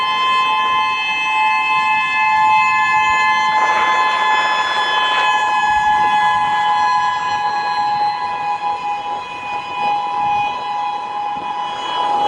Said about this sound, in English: Sirens have been heard blaring in parts of Honolulu, in Japan and Russia as well.